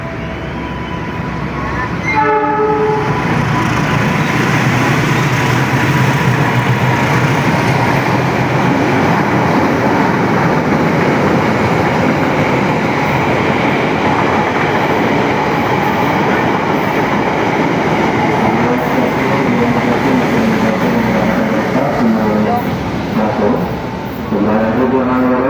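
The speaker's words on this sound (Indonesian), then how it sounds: "Lokomotif melintas langsung, kereta api jarak jauh melintas langsung stasiun Cakung" A long-distance train passes straight through Cakung station without stopping, a loud, sustained rumble and roar of rolling wheels and cars that lasts around twenty seconds, close by and filling the whole stretch.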